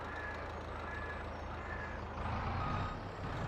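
A forestry truck in Farming Simulator 22 backs up with a steady, evenly spaced electronic reversing beep repeating over a low engine rumble, moderately quiet.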